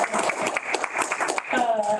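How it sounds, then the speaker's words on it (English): Audience applause for a guest at a provider meeting, a short burst of clapping from a room of people, fairly close and steady for about two seconds. "Let's give him a round of applause."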